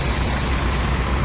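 Heavy diesel bus rumble fills the scene as buses pull into an area near Serang, a loud, steady low engine drone with a hissing air release, close by and continuous.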